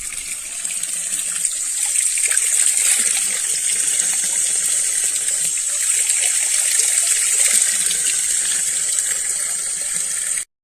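Water runs steadily from a public drinking fountain in Bitola, a continuous hissing, splashing stream close to the microphone that holds even for about ten seconds, with no talking.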